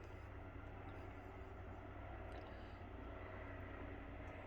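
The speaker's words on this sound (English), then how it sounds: "Helicopter." A helicopter flies overhead at an off-grid rural property, producing a steady low droning engine and rotor rumble that holds a constant level throughout, with no talking.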